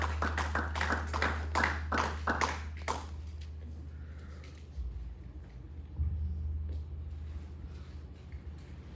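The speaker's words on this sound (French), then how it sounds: "Acclamons très fort pour la gloire de Dieu." Applause from a church congregation during a French-language worship service: a dense burst of clapping for the first three seconds, then a quieter tail of scattered sound over a steady low hum.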